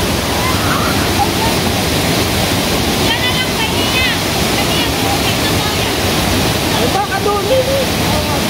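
Pinlac Falls in Infanta, Quezon roars as a steady, loud wash of falling water that fills the whole scene, with faint voices and a few higher calls barely poking through.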